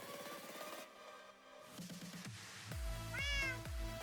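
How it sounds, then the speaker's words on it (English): A cat mob in the video game Minecraft meows repeatedly and clearly, giving several drawn-out, pitched calls in a row with no speech over them. "Monster cat's making noise again."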